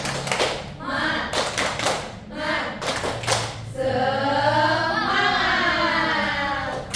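A classroom group claps a rhythmic tepuk semangat chant in short bursts of hand claps, then shifts to sustained chanting voices that carry into the second half.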